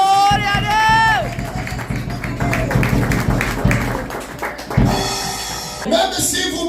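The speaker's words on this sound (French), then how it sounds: "Bien-aimé, acclamons très fort pour la Gloire à Dieu." A church congregation cheers and claps loudly in praise, a dense wash of applause and shouting carrying steadily for several seconds.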